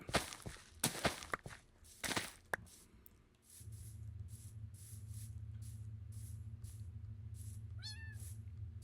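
Game sounds with footsteps and short meows, then a steady low hum with a rising chirpy trill near the end.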